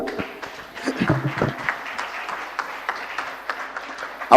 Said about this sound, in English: Please, another round of applause for